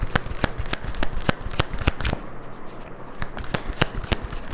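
Psychic oracle cards are shuffled by hand for a tarot reading, giving a run of sharp, close riffling snaps and soft slides in an uneven rhythm, with a brief quieter pause midway.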